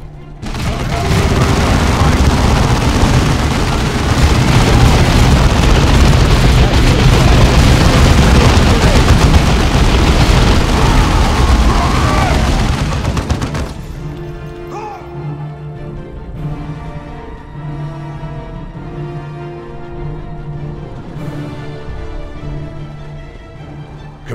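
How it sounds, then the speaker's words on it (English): In Dawn of War 2, Space Marine heavy bolters and devastator squads fire in a loud, dense barrage of rapid gunfire and booms for about fourteen seconds, then drop to scattered shots and rumbling battle noise. "Devastator's ready to fire. Our heavy bolters are deadly"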